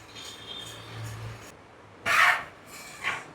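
A spoon stirring boiled dal mixture in a pot for restaurant-style dal khichdi, a few short scraping and rubbing strokes, soft and close, with a louder scrape near the end.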